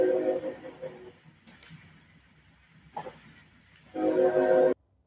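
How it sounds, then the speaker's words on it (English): A train runs near a station, a steady rumble with a few sharp clicks partway through, then a loud sustained horn blast near the end that stops abruptly. "we are bringing you this broadcast right next to a train station, so don't be surprised at some of those sounds that you hear."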